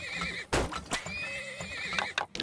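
Horse neighs and whinnies in the Turmoil oil-drilling game, a clear game-audio whinny with hoof clip-clops underneath, repeating across the short stretch alongside steady in-game ambience.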